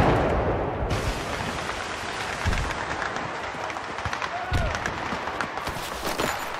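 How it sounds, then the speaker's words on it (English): Explosions and gunfire from the Battlefield 3 video game, a dense, noisy battle mix with heavy booming blasts and scattered shots over a constant roar. "Oh, whoa, explosions."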